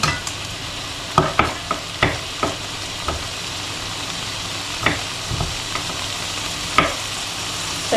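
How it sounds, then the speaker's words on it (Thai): Shrimp stir-fried in oyster sauce in a pan gives a steady sizzle broken by sharp metallic spatula clacks and scrapes, which bunch together early and then come at intervals. "สรุปว่าเราทำผัดน้ำมันหอยนี้ใส่กุ้งนะคะ ผัดกุ้งให้สุกก่อน"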